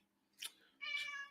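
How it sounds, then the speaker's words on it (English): A cat meows indoors, giving a short call followed by a longer, tonal meow, fairly faint and alone in a quiet room with low background hum. "as you can hear, I've got a cat here in with me"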